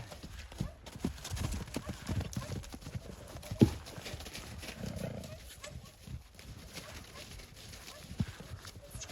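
A large mare's hooves clop unevenly on the ground nearby as she walks, with quiet voices talking in the background.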